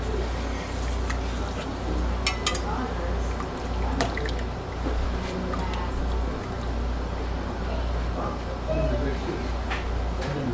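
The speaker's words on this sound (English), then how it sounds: "Strain my lye." Lye solution for honeysuckle soap is poured through a strainer, giving a steady trickle and drip of liquid that runs continuously at close range alongside a low background hum.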